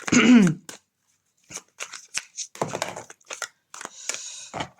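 Tarot cards are shuffled in several short riffling bursts with pauses between them, close and fairly loud, with a brief voice sound at the start.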